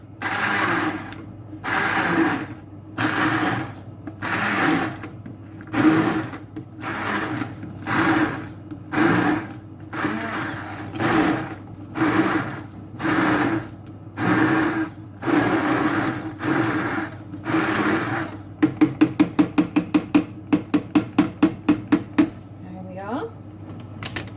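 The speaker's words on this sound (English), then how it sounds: "I'm just going to use the hand blender to soften half of the soup." A hand blender purees potato and leek soup in a pot in repeated bursts of loud whirring, each lasting about a second with short pauses between, ending in a series of rapid quick pulses.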